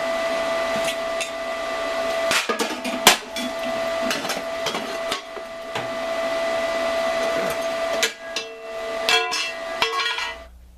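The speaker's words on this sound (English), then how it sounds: "I'm going to take my plasma cutter and cut this entire edge out" A plasma cutter slicing out a metal edge on a vehicle body, giving a steady whining hum with sharp crackling pops and metallic clinks throughout, loud and close with no speech.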